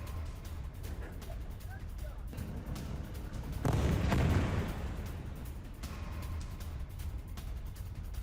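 Explosions from the bombardment of buildings in Khan Younis, Gaza, heard as a rumbling background with one loud, heavy blast in the middle, under a news reader's voice.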